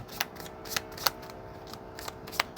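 A deck of oracle cards is shuffled by hand, giving quick papery riffles and snaps in several short bursts, close and fairly quiet.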